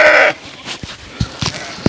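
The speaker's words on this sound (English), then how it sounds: "So these are Dorper sheep." Dorper sheep bleating loudly and close by in a single strong bleat at the start, followed by quieter shuffling and scattered thumps.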